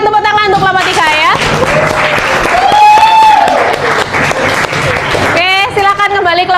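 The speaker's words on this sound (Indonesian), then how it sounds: "kita berikan tepuk tangan untuk kelompok 3 ya" A classroom of students applauds for a presenting group, a loud, dense wash of clapping lasting several seconds, with voices and chatter mixed in throughout.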